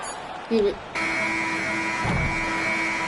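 A final buzzer in the NBA 2K26 basketball video game, ending a lopsided game, holds as a steady, loud electronic tone for about two seconds over arena background noise.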